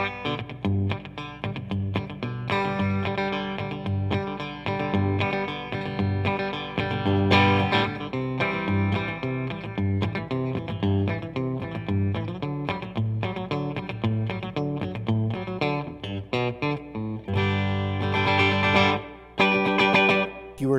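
Distorted electric guitar played through an amp with its reverb turned up plays a steady rhythmic riff, washed in reverb, loud and continuous with no voices.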